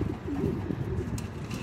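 Pigeons cooing at an open loft in the evening, soft, low, throaty coos close by, continuous over a brief moment with faint rustling.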